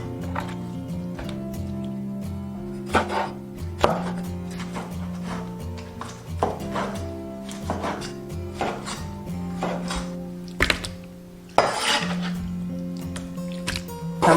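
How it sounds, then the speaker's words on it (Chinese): A knife chops cuttlefish into small pieces on a board: irregular sharp knocks spaced through the clip, close and fairly quiet, with soft wet squishes and a low steady hum underneath. "把墨鱼切小块，等一下比较好炸。"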